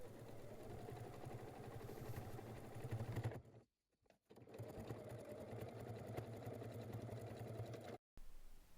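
A domestic sewing machine stitches fabric squares together for a patchwork bag, with a steady, close mechanical whir and clatter. It pauses briefly twice, then resumes at the same even speed.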